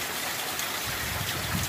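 Steady, fairly faint rain falling, a constant broadband wash with no distinct drops, continuous and unchanging throughout during a storm.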